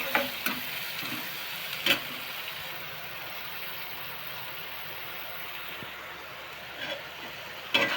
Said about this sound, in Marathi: चांगला भाजायचा कांदा आणि टोमॅटो मऊ होऊन द्यायचा एकदम.